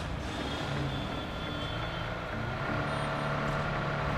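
A truck in a survival video game drives along a road, its steady engine rumble joined by reversing beeps and a brief air-brake hiss, continuous and close with no talking.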